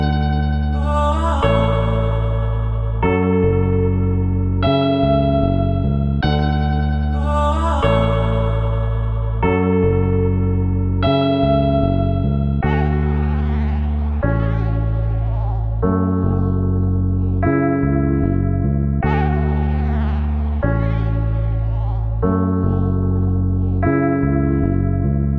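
A loud, steady beat carries a vocal sample that jumps between octaves, treated with echo, chorus and reverb over deep bass, in repeating bars with no speech.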